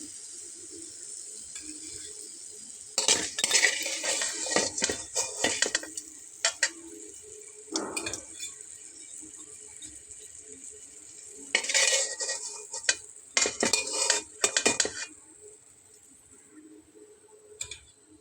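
Snacks fry in oil in a pan with a soft continuous sizzle, broken by bursts of louder crackling and clattering utensil scrapes and taps against the pan.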